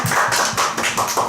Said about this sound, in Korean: 박수 한번 더 칠까요?